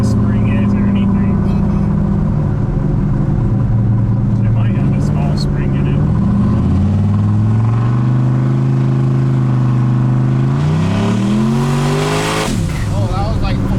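A turbocharged LS engine in a street truck revs up repeatedly under boost, loud and close, the pitch climbing in long sweeps with gear changes and a sharp rise near the end, while people talk over it.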